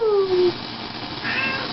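A house cat gives a single short meow that slides downward, close and clear, followed by quiet room noise.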